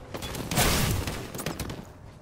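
Bursts of gunfire from a shooter video game, a rapid volley of shots up close and loud that trails off into scattered reports.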